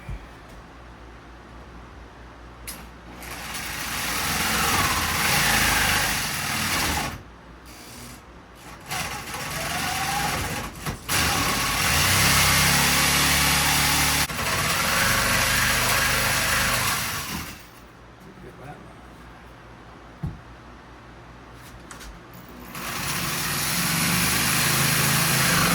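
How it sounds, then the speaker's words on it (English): A power jigsaw cuts wood for a bowtie-shaped picture frame, buzzing loudly in long continuous runs broken by brief pauses and restarts, close to the listener. "rest of this is just doing like a jigsaw doing jigsaw things"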